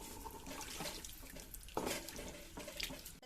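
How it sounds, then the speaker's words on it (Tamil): Water pours steadily into a cooking pot for mutton biryani, a close splashing, gurgling stream lasting a few seconds with a brief louder surge midway and no talk. "நான் 4 டம்ளர் மட்டும் தண்ணி ஆட் பண்ணுறேங்க"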